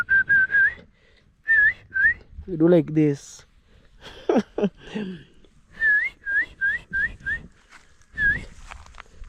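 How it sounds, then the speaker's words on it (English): Short rising whistles repeated in quick bursts, a person whistling to stop cows, between bits of nearby talk. "When you are whistling, like it makes our cows to be stopped"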